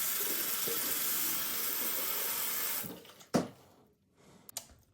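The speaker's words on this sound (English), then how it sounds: "And fill it back up with water, again, to almost cover the fabric," Tap water runs steadily into a container of dyed cross stitch fabric, a continuous broad rush that cuts off near three seconds, followed by a few faint knocks and splashes.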